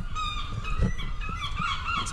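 Birds call loudly and repeatedly at the Mont-Saint-Michel abbey in France, with harsh honking cries rising over a steady open-air background.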